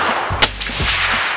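A single sharp suppressed rifle shot from a Q Fix rifle chambered in 6.5 Creedmoor, loud and close at an outdoor range, followed by a brief low rumble and quiet after.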